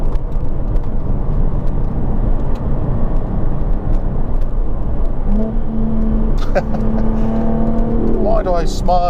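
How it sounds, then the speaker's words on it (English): Jaguar F-Type sports car engine, loud and steady throughout with a continuous drone, rising into revving tones near the end; people talk over it. "Why do I smile and laugh every time I hear that downshift noise?"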